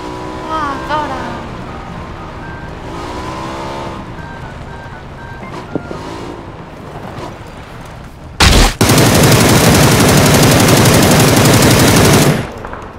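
Video game gunfire: a sharp blast followed by a long, loud, continuous burst of automatic fire lasting several seconds, preceded by talk and game sounds.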